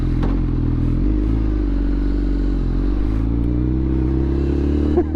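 A BMW S1000RR sport bike idles close by on its first ride out, a loud, steady, throbbing engine note with a mechanical clatter and a slight rise near the end.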